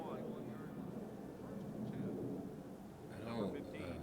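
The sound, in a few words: low-flying airplane passing overhead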